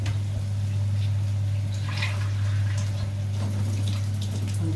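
A cup of water is poured into fresh strained tomato sauce cooking in a pan, a continuous close liquid splashing over a steady low hum, no talking.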